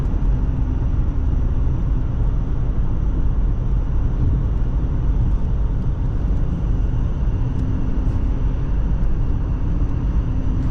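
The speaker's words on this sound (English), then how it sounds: "there's a little bit of wind noise, but it's not bad" Steady broadband rumble of wind and road noise inside the cabin of a moving 2008 Toyota RAV4, a constant moderate hush with no voices.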